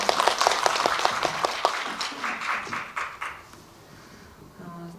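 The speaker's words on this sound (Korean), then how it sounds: "박수로 한번 낭독을 청해 드릴까요?" Applause from an audience at a poetry event before a reading, with sharp individual claps at first that thin out and fade, followed by quiet room sound.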